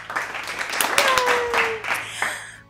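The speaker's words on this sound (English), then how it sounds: "And the crowd goes wild." A crowd applauds at a high school dance academic awards ceremony, with a short burst of clapping and cheering under voices.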